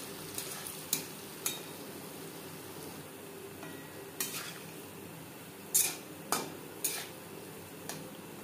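Palm fruit fritters fry quietly in oil under a soft, constant bubbling hiss, punctuated by several distinct clinks and scrapes of a utensil against the pan as they are turned.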